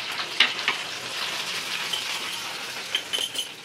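Spices and lentils, including mustard seeds, chana dal and urad dal with ginger and chilli, sizzle steadily in hot oil for a tempering, with a dense continuous crackle and a few sharper pops standing out.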